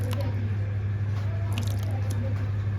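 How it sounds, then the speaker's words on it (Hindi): Yogurt (curd) is added to a bitter gourd mixture for crispy karela fry, giving short, soft, wet squishing sounds over a constant low hum. "दही ऐड कर लेंगे"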